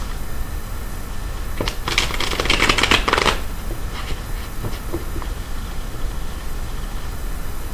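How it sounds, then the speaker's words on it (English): A quick riffle shuffle of tarot cards, a rapid burst of crisp flicking clatter lasting a couple of seconds, close by over a steady background hiss. "I just like to give another quick shuffle."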